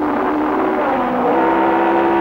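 Racing cars at the 1969 Cape South Easter race drone steadily from the track, a sustained engine whine that shifts pitch slightly as a car laps a Formula 2 machine, with no speech.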